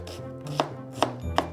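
Knife chopping onion on a cutting board for mirepoix, three sharp distinct chops spaced evenly apart, close and fairly quiet with no talking.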